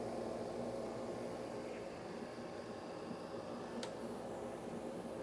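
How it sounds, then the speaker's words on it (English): A workshop vacuum runs steadily during woodturning of a small holly dish, a loud continuous broadband roar with a faint hum, holding level and uninterrupted from start to finish. "I turn the vacuum off here."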